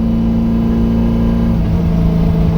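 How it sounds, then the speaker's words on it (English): Racecar engine revving briefly with the cooling fans running, a loud, close, steady engine drone that rises slightly in pitch near the end. "I gave it a little RPM"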